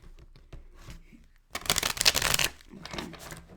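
Tarot cards being shuffled: a few light taps, then a loud riffle of crisp rapid flutters, followed by a quieter second shuffle.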